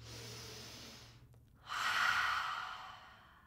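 A child-friendly yoga breathing exercise: one deep breath drawn in through the nose, a brief pause, then a louder, airy exhale, soft and close with a rushing, wave-like hiss.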